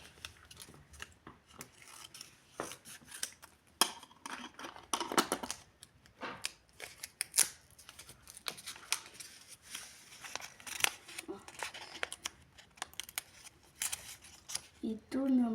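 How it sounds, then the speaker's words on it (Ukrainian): Close, crinkly rustling of a small plastic packet being handled and torn open, in quick irregular crackles with clicks scattered throughout. "Відкриваю пакетик."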